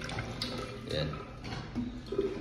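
Water runs from a toilet washer in a vehicle restroom, a soft, uneven splashing and trickle close by with brief gurgles, under a short spoken word.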